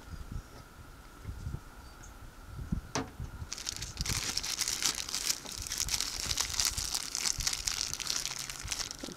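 Plastic bag crinkling while putty is mixed inside it, starting as a brief rustle and then becoming a loud, continuous close crackling, with no talking.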